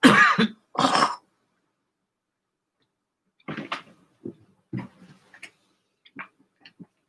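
Two sharp coughs up close at the start, followed by silence and then faint scattered clicks and small rustling noises.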